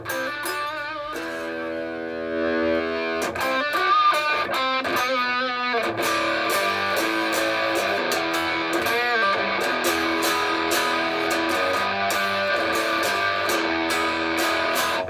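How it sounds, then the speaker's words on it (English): An electric guitar plays a few ringing notes, then switches to a thick, gritty distorted tone through a Boss Mega Distortion pedal, strumming and riffing steadily with no talking. "Let me just kick on for a second the Mega Distortion Boss."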